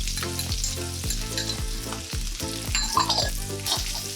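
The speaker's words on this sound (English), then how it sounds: "You give it a quick saute." Garlic sautes with browned sausage in a hot pan, a steady close sizzle with rhythmic stirring scrapes every half second, no voices.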